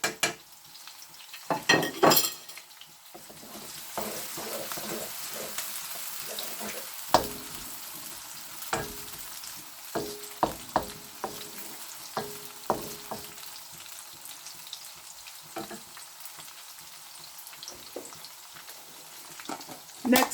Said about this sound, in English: I'll be frying some spring onions, and again the same with the white sliced onions.